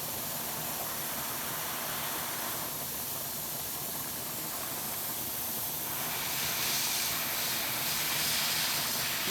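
Steam hissing steadily and loudly while handspun art yarn with beads is set on a wooden niddy noddy, a continuous broad rush that swells slightly toward the end.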